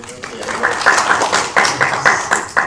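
At a law conference session, attendees clap in loose, rhythmic bursts of hand claps, fairly close, with people talking over and between the claps.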